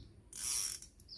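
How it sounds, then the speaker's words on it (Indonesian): Brief ratcheting click of an Iroly Sevius fishing reel clicker set to its lowest setting, a soft quick burst of buzzing clicks lasting about half a second, close and quiet. "Seperti ini suara klikernya."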